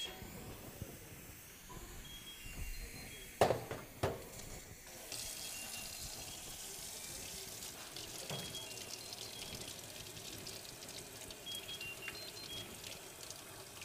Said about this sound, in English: I'm going to take it over to the cold water tap.